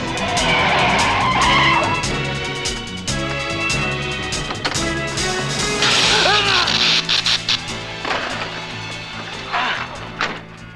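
A radio-drama sound effect of a car braking hard, with tires squealing and skidding loudly over dramatic music, the screech rising and sliding for several seconds.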